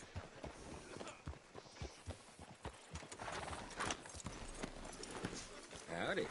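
Steady clip-clop of horse hooves walking on hard ground in a video game, fairly close, with a voice talking over the top and the hoofbeats continuing throughout.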